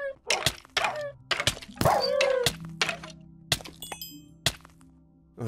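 Minecraft dog (tamed wolf) sounds in a PS4 game session, with short whimpering and yelping tones among thunking hits and game dings, several brief bursts spread across the scene, fairly loud.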